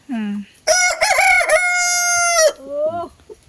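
A rooster lets out one long, loud crow close by, its drawn-out call held for nearly two seconds, framed by shorter clucking sounds before and after.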